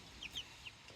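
Backyard chickens being fed carrots give a few soft, quiet clucks over a low rumble of rain, with no voices present.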